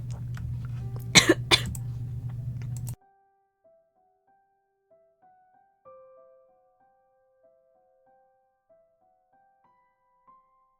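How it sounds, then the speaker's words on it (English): Several harsh coughs burst out in quick succession over a low hum, then the sound cuts to near silence with faint, sparse tones. "I'm so sorry for the coughing spree."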